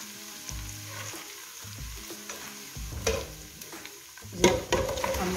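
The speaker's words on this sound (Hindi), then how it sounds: "थोड़ा सा इसको फ्राई करने के बाद हम अपना मटन इसके अंदर शामिल करते हैं।" Mutton fries in a pot for pulao with a continuous sizzle, punctuated by irregular scrapes and clatters of a spoon stirring, louder bursts near the end.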